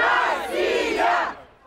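Angry crowd outside chanting "Russia, Russia" at a trapped UN envoy, a loud massed roar of voices in rising and falling shouts that fades toward the end.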